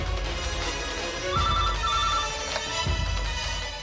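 A telephone rings in a Telugu TV drama scene, as faint repeating electronic tones half buried under a dense, noisy background, with no talking over it.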